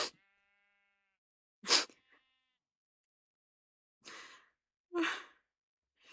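Short blocky sheep bleats from Minecraft, four separate calls spread apart with silence between, moderately loud and clear with no talk over them.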